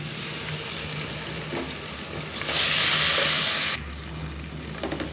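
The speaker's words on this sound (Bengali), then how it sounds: "আদা রসুন দিয়ে একটু কিছুক্ষণ ভেজে নিব" Beef frying with ginger garlic paste in a pan crackles and sizzles continuously. A louder burst of hiss swells in the middle for about a second before easing back to a steady fry, and no one speaks.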